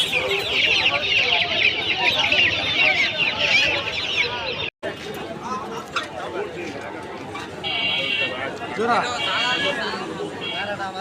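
Dense chorus of chickens and chicks clucking and squawking at a busy poultry and bird market in Tongi, Bangladesh, continuous and close, with people talking and chattering throughout.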